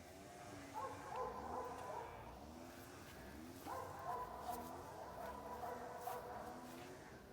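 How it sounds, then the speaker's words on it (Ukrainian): A dog barks repeatedly in the distance in a village, faint and somewhat muffled, over a steady outdoor background hiss. "Чуєте, собака гавкає?"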